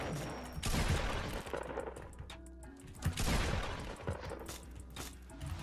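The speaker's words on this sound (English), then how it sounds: "Please don't shoot me, Bacon." Gunfire in the Roblox game Da Hood during a raid: rapid volleys of shots in a couple of heavy bursts, fairly quiet overall, with clattering and impact noise between them.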